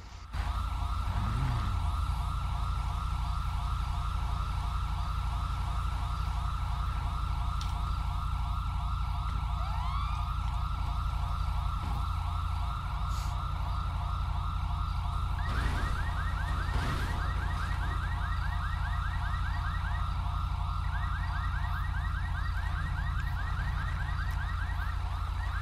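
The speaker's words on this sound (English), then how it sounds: "What vehicle has a siren on it? Cut that off." A loud electronic vehicle siren in GTA V wails continuously throughout, steady and close, with a rhythmic warbling pattern and a second yelping tone joining partway.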